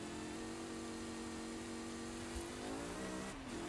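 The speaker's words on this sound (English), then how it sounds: "That racing V10 working well with the DeLorean here to power this thing through these corners" A DeLorean DMC-12 rally build fitted with a racing V10 engine in Forza Horizon 5 drones steadily at high revs, then its pitch dips briefly near the end, heard on its own.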